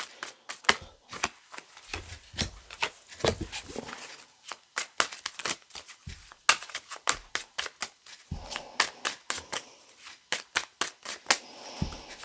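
Tarot cards being shuffled by hand, a close series of sharp riffling snaps and soft slaps in an uneven rhythm, with short pauses between bursts and no talk.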